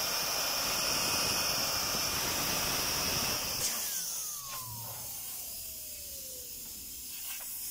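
An engine turbocharger whooshes and hisses loudly at open throttle, then the broadband rush drops away at about four seconds, leaving a whine that falls in pitch as the turbo spins down.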